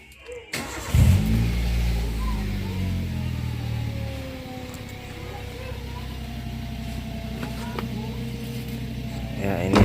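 Toyota Avanza engine cranking and catching, then running at idle with a steady low growl and droning hum, fairly close and loud throughout.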